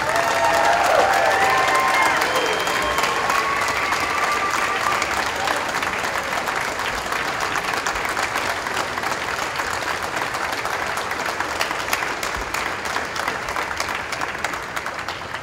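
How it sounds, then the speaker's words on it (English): Sustained crowd applause at a public ceremony honouring an ALS awareness campaigner, steady dense clapping with a few cheers, loud and continuous throughout with no talk over it. "How about another round of applause from Mayor Walsh?"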